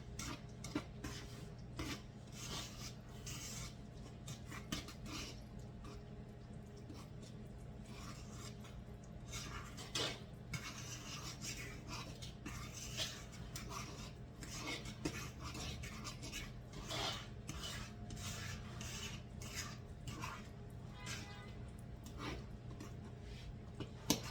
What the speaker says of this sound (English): stir, or I'm using a fork, until dry ingredients are just moistened